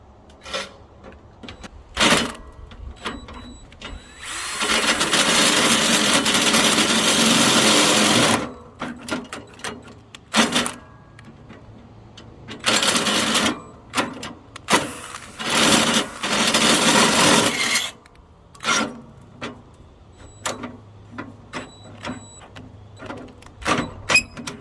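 Bursts of harsh, high-pitched mechanical whirring as a drill bores out a lawn mower part, one long run then several shorter ones, with scraping and clicking between, close by.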